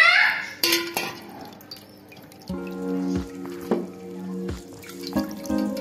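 Tap water runs into a kitchen sink while prawns are rinsed, the flow starting and stopping amid drips, clinks and splashes, close and moderately loud, with no talk.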